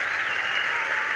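A cricket crowd at a Test match applauds Ricky Ponting's innings with a brief, even wash of clapping from the stands, with no voices over it.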